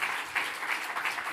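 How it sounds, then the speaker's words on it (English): An audience applauds panelists at the close of a Supreme Court reform session at Netroots, with steady crowd clapping throughout. "please give a round of applause for our panelists"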